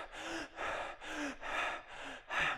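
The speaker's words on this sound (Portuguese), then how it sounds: "eu estou forçando uma respiração mais profunda, com maior frequência, utilizando mais da minha reserva pulmonar." Forced deep, rapid breathing, with about five strong, evenly paced breaths close to the mic, each one a loud rushing inhale or exhale with a slight vocal edge, separated by brief pauses.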